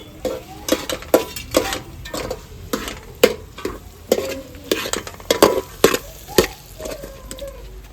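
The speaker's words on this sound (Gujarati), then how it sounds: "તો હવે આપણે બટેકા નાખી દઈશું અને હવે વટાણા નાખી દઈશું." Potatoes and peas stirred in a hot pan for Kathiyawadi masala veg pulao: repeated close spoon scrapes and knocks in an irregular rhythm over a steady sizzle of frying.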